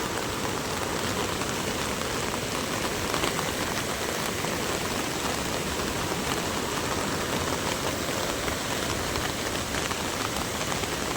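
Muddy floodwater rushes forcefully through a roadside drain near a bridge during heavy monsoon flooding, a steady loud broadband roar of churning water filling the whole stretch with no break.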